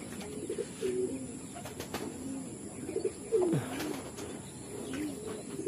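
Racing pigeons coo repeatedly at the loft, their soft low throaty calls rising and falling in several bouts, with occasional chirps and faint wing flutters over a steady outdoor background.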